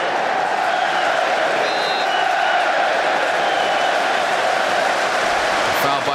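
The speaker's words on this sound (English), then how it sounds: "The crowd appreciated that bit of play." A football stadium crowd at a Manchester United versus Liverpool league match roars and applauds a passage of play, a dense continuous wash of cheering and clapping heard from a distance.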